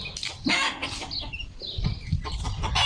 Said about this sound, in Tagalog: Ayun, pinalabas yung mga manok.